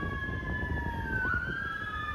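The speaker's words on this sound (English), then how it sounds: "as soon as I heard them sirens" Police sirens wail outside, two steady tones sliding down in pitch partway through as they pass, over a low traffic rumble.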